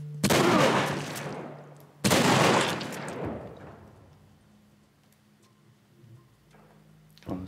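Two loud gunshots from The Last of Us Remastered played on PS5, each a sharp blast with a long decaying echo about two seconds apart, followed by quieter game ambience and a faint click at the end.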